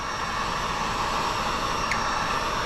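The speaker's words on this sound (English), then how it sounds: "So I think there's a helicopter flying around." A helicopter flies overhead near an airport, heard as a steady, loud, broadband engine and rotor roar that holds evenly throughout with no talking.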